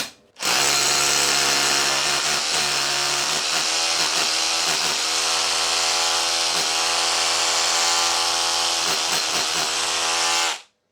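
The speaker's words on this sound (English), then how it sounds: "So drill the hole dead straight forward down to that depth there." A power drill with a 5mm bit runs continuously and loudly for about ten seconds, drilling a hole into a concrete wall, its pitch wavering slightly as the bit bores in, then stops abruptly.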